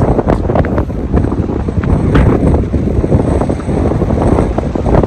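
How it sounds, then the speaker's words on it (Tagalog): Strong wind roars and buffets the microphone in heavy, uneven gusts outdoors in Copenhagen, Denmark, loud and continuous throughout. "Ang lakas ng hangin, grabe."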